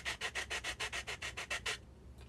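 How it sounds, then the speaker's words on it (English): Sandpaper scrubs a wooden wall edge to make it even with a gable, in about a dozen quick, evenly spaced back-and-forth strokes that are close and clear, then stop into near silence. "To ensure that this side of the wall is even with this gable, I had to sand it down slightly."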